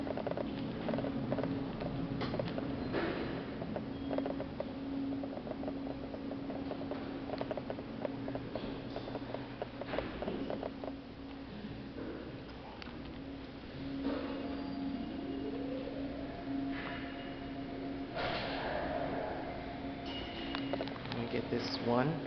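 A Westinghouse elevator in a university building running, with a steady mechanical hum, faint whirring and occasional clunks and creaks as it travels, fairly quiet and continuous throughout.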